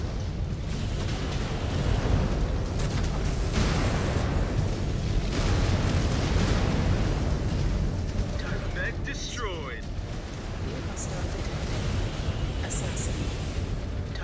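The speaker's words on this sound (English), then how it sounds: "Incoming missile." Missile explosions in MechWarrior 5: Clans make a heavy, continuous roar and rumble of blasts that stays loud throughout, with a few brief sharper bursts near the end.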